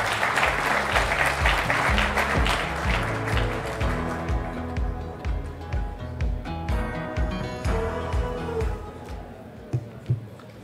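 Audience clapping at the official opening of a Tunisian investment forum, an outburst that is loud at first and then thins over a few seconds, mixed with rhythmic background music and scattered claps near the end.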